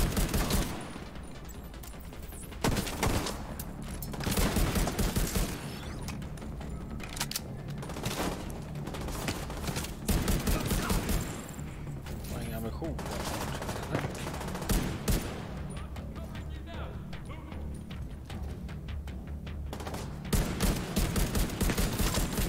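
Rapid bursts of automatic rifle fire and single sniper shots in The Division 2 during a Theater settlement mission, loud and nearly continuous with dense crackling volleys and brief lulls.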